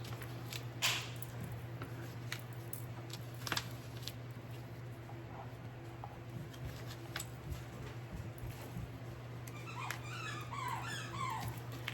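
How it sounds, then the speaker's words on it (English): A dog plays with his ball indoors, giving scattered soft thumps, squishy squeaks and pattering taps over a constant fan hum, with a burst of rapid squeaking near the end. "my dog is playing with his ball"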